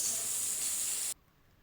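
Chopped onion dropped into oil already used for frying gives a loud, bright hiss at close range, then cuts off abruptly to near silence after about a second.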